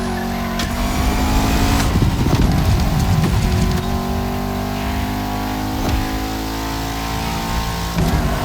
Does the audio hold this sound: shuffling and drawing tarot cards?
no